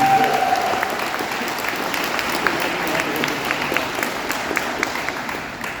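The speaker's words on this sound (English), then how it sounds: "I would like to clap it up for all of them" An audience applauds the coaches with steady, dense clapping that holds for several seconds, fairly close and loud, with faint voices mixed in.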